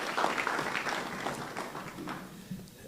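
Applause from an audience at a cybersecurity tech hackathon, with steady clapping that continues across the moment and gradually thins toward the end.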